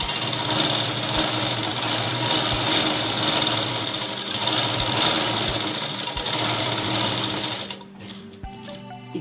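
A sewing machine stitches a baby's bunny-eared cap, a loud, close, rapid continuous whirring run lasting several seconds before stopping abruptly, leaving a quieter, fainter end with a few light mechanical taps.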